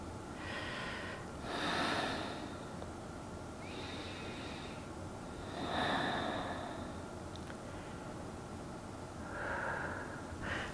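Slow, deep breaths during a yoga flow, close and soft, with three or four long inhale-exhale swells spaced a few seconds apart over a steady quiet background hiss.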